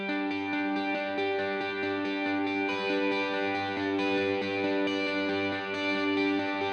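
An electric guitar plays a steady run of eighth notes through ambient delay and reverb, the repeats blurring into a shimmering, sustained wash at a moderate level.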